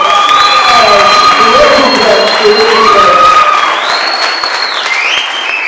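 Applause for the Soweto branch at a Patriotic Alliance regional leadership launch in the Vaal, a loud, steady crowd clapping mixed with cheers and whistle-like tones, fading slightly toward the end.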